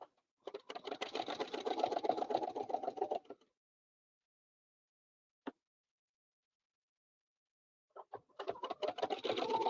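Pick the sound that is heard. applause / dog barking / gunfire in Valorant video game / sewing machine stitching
sewing machine stitching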